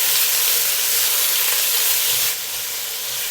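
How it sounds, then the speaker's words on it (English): Chicken pieces seasoned with black pepper and salt fry in a hot wok, a steady loud sizzle and hiss running throughout, dropping slightly in level near the end as the pieces are moved around. "We'll just need to fry them until they are no longer red."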